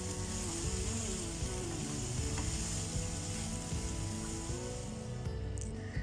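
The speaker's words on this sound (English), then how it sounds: "I'm going to mix all of them until all the vegetables and shrimps are well combined" Shrimps, onions and vegetables in a Nigerian shrimp sauce fry in a pan with a steady close sizzle, while a utensil stirs and scrapes through them now and then.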